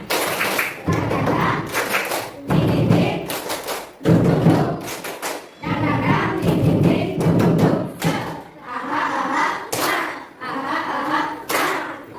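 Schoolchildren standing in a classroom perform a rhythmic patterned clapping chant, bursts of sharp claps separated by brief pauses, with voices calling out along with the beat.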